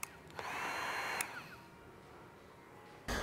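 A heat gun blows hot air over tint film on a 2022 Hyundai Elantra taillight, a steady close whooshing hiss that shifts slightly in pitch, then cuts off briefly before starting up again.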